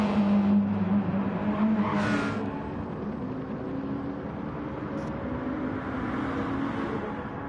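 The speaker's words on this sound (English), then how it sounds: "He's racing with Subaru WRX GT3 car." A Subaru WRX GT3 race car in Gran Turismo Sport at Sardegna, its engine droning and revving steadily, with a brief squeal or shift near the start, running without a break for the whole stretch.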